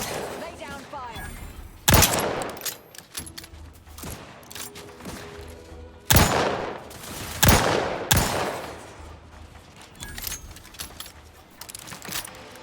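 Gunfire in Outer Worlds 2 comes as several sharp, loud shots spaced a few seconds apart. Scattered clatter and background noise fill the gaps between them.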